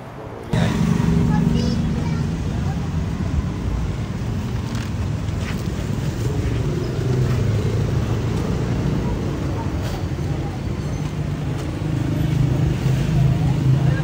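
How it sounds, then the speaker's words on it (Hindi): A car engine runs steadily as the vehicle drives along, with a continuous low rumble and road and wind noise throughout, fairly loud and close, with faint background voices. "ड्राइवर ने गाड़ी स्टार्ट कर लिया"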